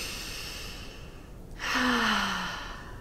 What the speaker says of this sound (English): Can you take a deep breath with me?